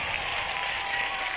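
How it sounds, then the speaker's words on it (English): A crowd applauds during a summer musical performance, producing a steady, even wash of clapping that fills the short moment without a break. "big round of applause"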